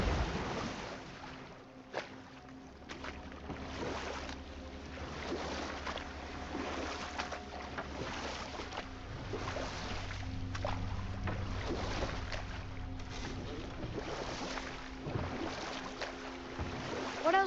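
A boat glides across water in the video game God of War, giving a continuous low rumble of water and wind that stays steady and moderately faint throughout, with no talk.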